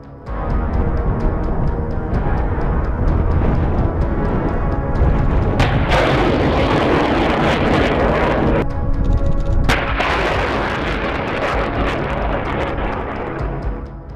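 Missile strikes from HIMARS rockets explode on the Antonovsky bridge over the Dnipro, a sustained barrage of heavy, roaring detonations and rumbling blasts with two sharp loud bursts in the middle, no talking.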